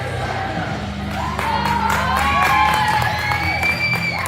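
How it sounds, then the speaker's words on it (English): Hockey fans cheer for the Lancers at the start of the third period of a junior Bantams game, a crowd roar with whoops and shouts swelling midway and echoing through the arena. "The fans are cheering here as they root on the Lancers here at the start of the third period"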